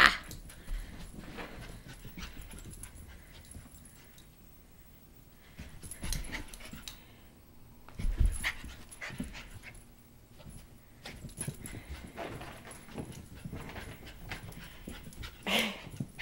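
A maltipoo being chased around indoors in the evening, with soft whimpers, panting and the patter of paws coming in scattered bursts, plus a few louder thumps amid quieter stretches.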